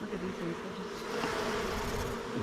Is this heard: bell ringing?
no